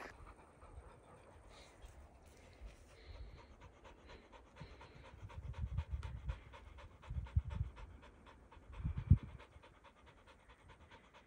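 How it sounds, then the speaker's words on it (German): Two Labrador dogs pant rhythmically inside a dog crate, a faint, steady huffing with a few louder breaths and soft bumps, no voices heard. "Milka und Toffi hecheln da nicht zu laut in ihrer Box"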